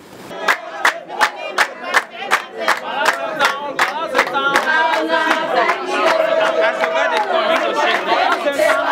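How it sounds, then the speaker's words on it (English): A village crowd in the Atissa Kingdom sings and chants in rhythmic unison, marked by strong regular beats or claps at first, then swelling into a dense, excited mass of voices and cheers. "Solidarity songs resonated the airspace as the crowd expressed their excitement for Professor Azaiki"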